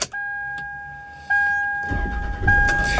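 A car with about 51,900 miles starts up: a steady electronic chime rings first, then the engine cranks and catches into a low, close idle rumble.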